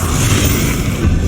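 A Confringo fire spell bursts in Hogwarts Legacy, a loud, close, dense explosive roar that holds steady with deep rumbling for its whole short length.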